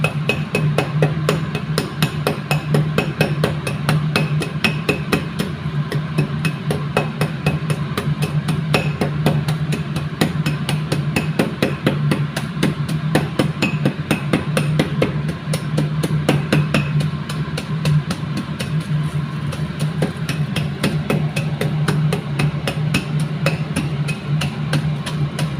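Rapid, steady pounding with a glass bottle used in place of a hammer while preparing sinugno, a run of dense rhythmic knocks lasting throughout, close and fairly loud with no talk.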